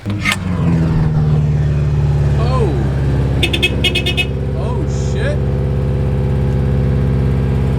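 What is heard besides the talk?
turbocharged Mazda Miata engine revving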